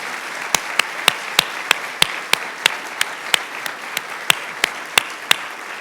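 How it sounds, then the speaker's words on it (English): Guests at a donor appreciation luncheon clap, though only a handful of crisp, separate hand claps come through, spaced roughly evenly over a quiet room tone rather than forming a full ovation. "Can we just have one more round of applause for these incredible stories?"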